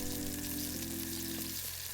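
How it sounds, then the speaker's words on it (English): Spring onion oil sizzles and crackles steadily in a scallop shell held over a naked flame, a close, continuous frying hiss that thins out toward the end. "When the oil starts to sizzle,"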